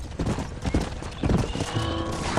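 Horse hooves clip-clopping in Red Dead Redemption, a steady run of close, loud hoofbeats mixed with the bustle of a herd and the occasional whinny.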